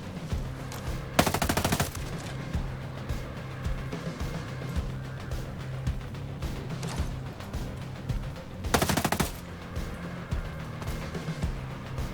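Rapid machine-gun bursts from a video game fire in two loud, dense volleys, with lighter scattered shots and effects between them.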